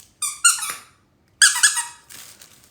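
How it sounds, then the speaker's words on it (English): A dog's squeaky toy squeaks in two loud, close double bursts with a brief gap between them, followed by a softer, scratchier squeak, with no voices. "Go chase your squeaky toy."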